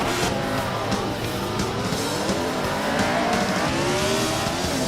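Race car engine in the Assetto Corsa 1975 F1 sim game, a continuous loud high-revving roar rising and falling through gear changes, with tyre noise underneath and no talking.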